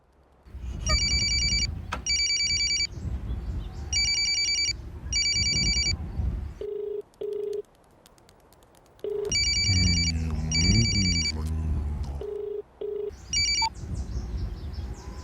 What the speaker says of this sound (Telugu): ఫోన్ లిఫ్ట్ చేయడానికి ఎంతసేపు పడుతుంది నీకు?